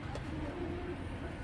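Racing pigeons at a pigeon market in Bangladesh give a soft, low cooing call close by, a single short throaty coo over a faint background hum.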